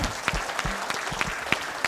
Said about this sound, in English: Give yourselves a round of applause, class.